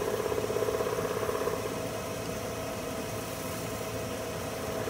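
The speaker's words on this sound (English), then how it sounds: "Still at 1600 RPMs. Going ahead and buffing this." A mimosa wood bowl spins on a lathe at 1600 RPM while Renaissance wax is buffed onto it with a paper towel under light pressure. The steady motor hum has a soft rhythmic rubbing pulse at first, then settles into an even drone.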